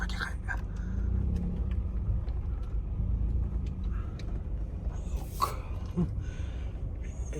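A car travelling along the Yakutsk–Amga road, its low engine and tyre rumble steady and close inside the cabin, with a voice speaking briefly over the drive.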